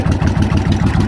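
A motorcycle engine, just taken off choke, chugs to life in a brief, loud, close burst of rhythmic low pulses.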